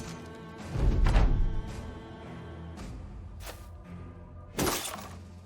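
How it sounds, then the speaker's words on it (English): Bony skeleton figures in the Battle Brothers video game shatter apart in two loud, crashing bursts of breaking debris, one near the start and a sharper one near the end, over a steady musical game backdrop. "bit by bit, the final bony figure is smashed apart."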